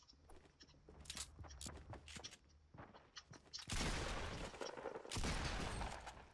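Pump shotgun blasts and other gunfire in a Fortnite Battle Royale match, a cluster of sharp shots followed by two long loud bursts of blasts and booms, close and without talk.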